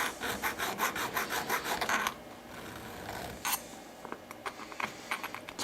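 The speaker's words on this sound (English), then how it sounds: "I'm using a small needle file to deburr the key." Small needle file deburring a metal key at a workbench, rapid rhythmic rasping strokes close by for about two seconds, then quieter scattered scraping and light taps.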